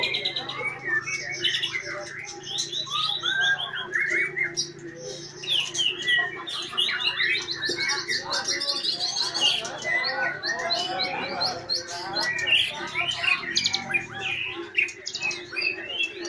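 A white-rumped shama, the murai batu, sings at a bird song contest, pouring out rapid varied whistles, trills and chirps with other birds and faint crowd noise in the background.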